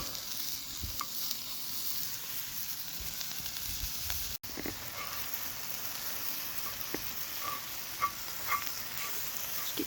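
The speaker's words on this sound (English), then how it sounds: "Just gonna get these onions cooked down" Onions cooking down in a pan for chicken korma, giving a steady close sizzle and crackle with scattered stirring scrapes and pops throughout, no voices.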